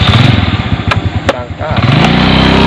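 A motorcycle engine revs loud and close as it rides off, its throaty rumble dipping briefly before climbing back to a steady drone, with a couple of sharp clicks along the way.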